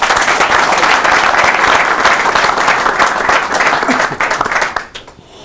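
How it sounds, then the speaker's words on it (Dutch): Loud, dense applause from a studio audience on a football talk show for columnist Jan Linkerhof, sustained clapping from many hands that tapers off near the end. "Graag jullie applaus voor"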